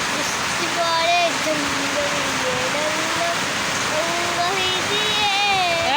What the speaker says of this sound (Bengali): বৃষ্টির শব্দে টিনের আওয়াজে ভয়েস কিচ্ছু শোনা যাবে না